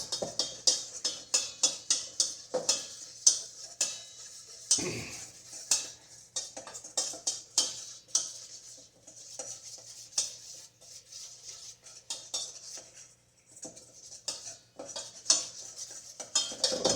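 Spoon stirring clumps out of probiotic Lactobacillus reuteri yogurt in a container, quick repeated clinks and scrapes in uneven bursts, close but fairly quiet, with no talking.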